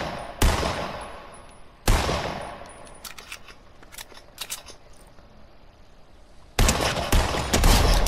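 Sharp, loud sniper rifle shots ring out in Fortnite, three distinct cracks spaced seconds apart with decaying tails, plus lighter clicks and handling noises between them.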